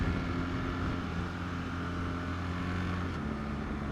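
A BMW R 1300 GS motorcycle cruises on a motorway in road mode, its engine holding a steady, even drone under a broad rush of wind noise.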